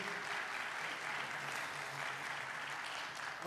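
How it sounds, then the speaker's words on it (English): An audience at a candidates' forum for a US House seat claps steadily throughout, a dense wash of many hands at moderate volume with no voices standing out. "Please give them a round of applause if you would."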